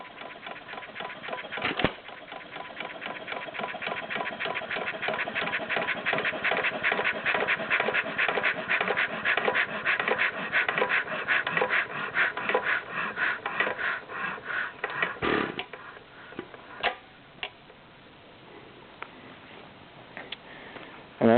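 A Stover CT-2 hit and miss engine shuts down with its little lever holding the exhaust valve open: steady rapid chugging runs close and loud, then slows and dies away, leaving a few faint ticks and clicks.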